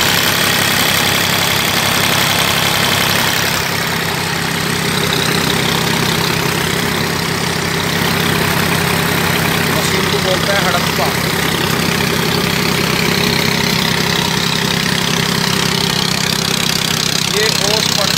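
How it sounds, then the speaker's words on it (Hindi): A 3-cylinder Preet 4549 tractor engine drives a straw thresher, roaring loud and steady at close range throughout, with someone speaking over it. "ये इंजन 3 सिलेंडर है"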